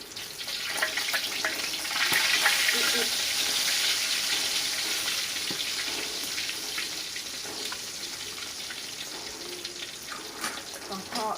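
Rice field crabs deep-fry in hot oil until crispy, giving a loud, steady, crackling sizzle that continues for the whole stretch with small pops throughout.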